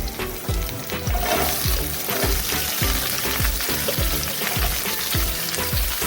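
Onion sautéing in a pan for a simple potato curry, a loud close sizzle and crackle of frying with repeated scraping strokes of a spoon stirring at a steady rhythm, with no talking.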